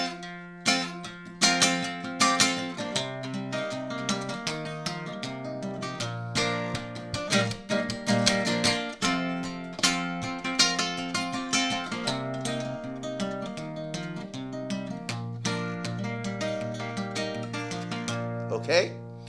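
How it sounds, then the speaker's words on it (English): Guitar playing the chorus of a song with a mix of arpeggiated picking and strummed chords, moderately loud and close, with a varied rhythm of sharp attacks and ringing notes, played solo without talking. "So when I do the chorus, it sounds like this."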